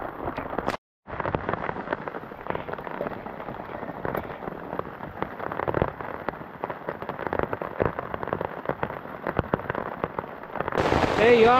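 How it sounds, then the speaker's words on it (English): Heavy rain pounds a camping shelter in a dense, crackling patter that goes on throughout with a brief break near the start, loud and close overhead. "it's raining cats and horseshoes out here right now. Getting a lot of water."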